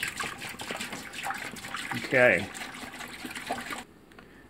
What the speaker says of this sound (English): all we're going to do is just pour this right in